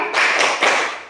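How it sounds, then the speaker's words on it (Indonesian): A classroom of children claps together in a rhythmic spirit clap, a few loud, close, unison claps in quick succession. "Mulai tepuk semangat."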